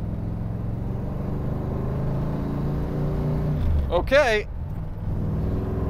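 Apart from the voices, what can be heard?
427 Corvette accelerating on highway on-ramp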